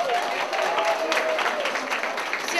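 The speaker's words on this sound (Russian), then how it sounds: "Аплодисменты!" Audience applause at a KVN anniversary show, a steady dense wash of clapping from a large hall crowd, moderately loud and continuous with no voices on top.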